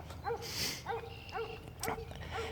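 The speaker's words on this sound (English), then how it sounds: "we'll have to just make do with the barking dogs in the background" Dogs bark in repeated short bursts at a moderate distance, steady rhythm of yaps with some background noise between them.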